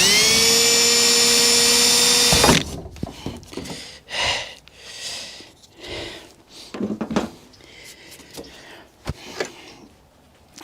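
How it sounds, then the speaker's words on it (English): A power drill bores a hole for a hood strut install on a 1979-98 Ford Mustang, a loud steady whine lasting about two seconds before it stops, followed by quieter clicks, handling noises and shuffling. "And get this first hole drilled."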